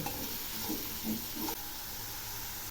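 Spices for cauliflower korma sizzle in a pan as they are sautéed, a soft, steady frying hiss with faint stirring scrapes and no voices.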